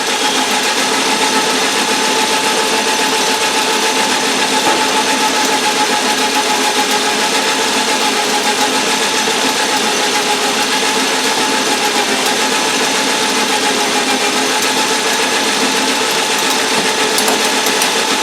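A tap drill bores into a workpiece on a Logan lathe with a turret attachment, producing a constant whirring machine drone laced with light ratcheting gear clicks, steady and close for the full length.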